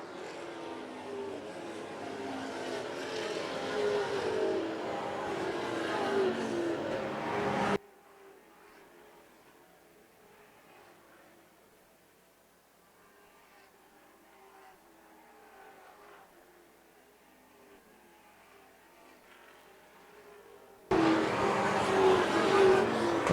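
Late model stock cars roar around an oval track, loud and close at first, then fading to a distant drone for several seconds before the pack's roar swells back in loudly.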